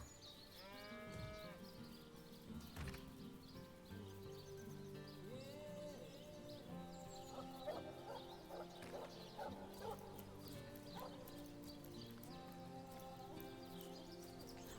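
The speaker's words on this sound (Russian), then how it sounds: "О, овца." Livestock in Divinity: Original Sin, including a sheep, bleat and low against a busy, faint farmyard soundscape, with layered animal calls and hoof-like clopping throughout.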